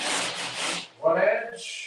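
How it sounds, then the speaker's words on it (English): Rough scraping of a hand rasp across the cut edges of a small drywall piece, two close, loud rubbing strokes separated by a short pause. "I'm just about to rasp the two edges."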